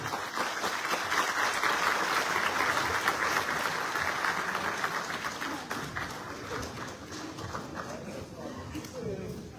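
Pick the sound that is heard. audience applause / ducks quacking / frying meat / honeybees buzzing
audience applause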